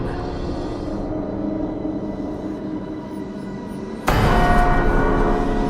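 A deep, resonant bronze bell strikes once with a loud, sudden onset over a low droning background, its rich ringing tone sustaining afterward.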